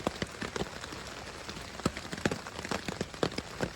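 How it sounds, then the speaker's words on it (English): Rain patters steadily on a tent while camping on the Appalachian Trail, close scattered drops tapping the fabric in an uneven rhythm over a soft wash of rainfall, with no voices. "As you can tell, it's raining"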